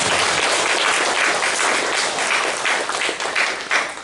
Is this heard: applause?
yes